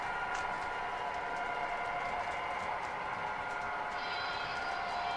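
Model-scale train running along a C&O layout, a steady continuous rolling rumble and whine throughout, with a brighter high hiss joining near the end.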